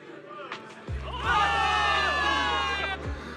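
A video game crowd of soldiers cheers and shouts loudly, swelling into sustained excited cries close by.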